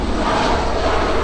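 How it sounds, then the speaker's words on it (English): A low-flying four-engine aircraft passes overhead, its loud, broad engine roar filling the short stretch without a break, with no speech over it. "Excuse the noise of the planes as usual."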